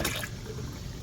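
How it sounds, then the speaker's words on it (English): A baking soda solution pours into water in a garden setting: a steady, close liquid rush lasting about a second, with no talk. "I figured I'd pour some solution in, mix it, and then see what happens."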